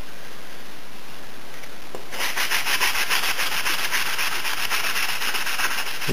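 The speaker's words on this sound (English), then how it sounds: "We're really just trying to sand it down so we can get a nice," Sandpaper rubbed by hand along the wooden stock of a Romanian WASR-10 rifle, starting after a quiet moment and continuing as close, steady back-and-forth scratchy strokes without talk.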